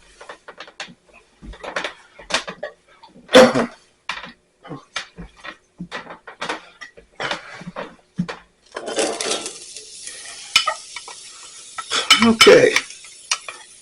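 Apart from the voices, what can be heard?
diced onions sautéing in a pan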